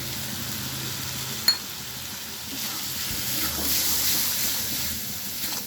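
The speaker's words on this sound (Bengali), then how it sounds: "আমি এবারে ভালোভাবে ভেজে নেব" Pumpkin with tomato paste, turmeric and spices fries in a pan, giving a steady close sizzle with a soft hiss, a brief clink near the start and no talking.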